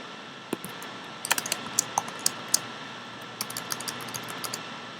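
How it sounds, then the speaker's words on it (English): Keys on a computer keyboard click in quick, uneven bursts while someone types code at a desk, with short pauses between flurries and no voices. "Even though I'm typing"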